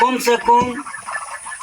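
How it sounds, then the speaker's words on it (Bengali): Chinese ducks on a farm give short, harsh, nasal calls close by in a quick cluster, then fainter chattering follows. "এই যে 11টা হাঁস আছে"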